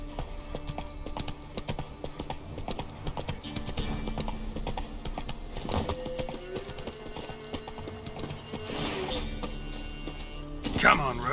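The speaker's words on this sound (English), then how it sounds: "Come on, Roach" Horse hooves in The Witcher 3 video game clip-clop in a steady galloping rhythm throughout, mixed with other game sounds and a brief voice.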